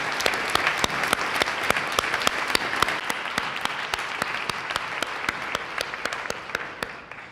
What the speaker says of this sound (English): So let's just give a round of applause for all those people.